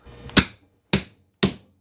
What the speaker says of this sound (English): We're gonna hit it several times with this hammer.